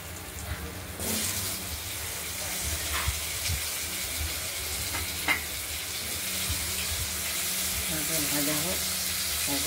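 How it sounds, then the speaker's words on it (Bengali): Potatoes fry in hot oil for a Bengali fish curry, a continuous low sizzle with occasional clinks and stirring, fairly close, with faint background talk. "আলুগুলো হালকা হলুদ করে ভেজে নেব"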